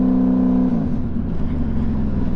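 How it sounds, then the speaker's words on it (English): Motorcycle engine running near the microphone, a steady rumbling idle that shifts in pitch as the revs change. "the bike's not even revving that high"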